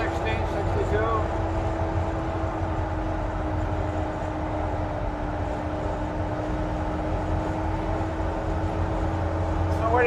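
A 1951 Ford pickup truck cruising on the road at around 55 to 60 mph, a steady low engine drone with road rumble heard from inside the cab, continuous and even throughout.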